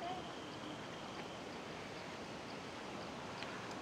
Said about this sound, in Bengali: ঝর্ণার আওয়াজ পাওয়া যাচ্ছে এখান থেকেই